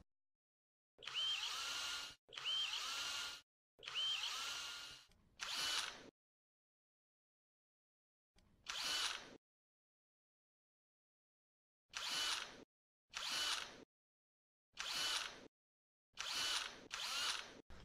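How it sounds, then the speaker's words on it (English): A power drill with a 3/32-inch bit drilling pilot holes whirs in short bursts, roughly ten separate runs of a second or so each, separated by silent pauses, close and clear. "Start with the smaller 3/32 drill bit and drill the hole."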